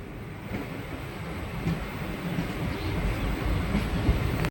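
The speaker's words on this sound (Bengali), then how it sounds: "প্রবেশ করছে দীঘা রেল স্টেশনে ট্রেন" The Santragachi–Digha first passenger train rolls into Digha railway station with a continuous low rumble and rushing noise that slowly builds in loudness, then cuts off abruptly.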